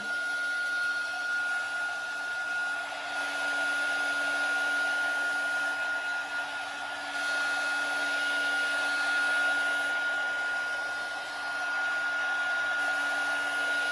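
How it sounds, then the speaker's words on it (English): A heat gun drying paint on a homemade remote control box blows a loud, constant airy whir with a steady tonal hum, close by and uninterrupted for the whole stretch, with no voices. "if you're like me, using a heat gun"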